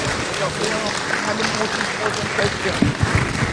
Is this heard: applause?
yes